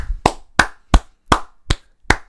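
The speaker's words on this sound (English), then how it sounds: "Can we get a round of applause, please?" One person claps slowly, six sharp, separate hand claps spaced at an even pace, close and loud against otherwise quiet.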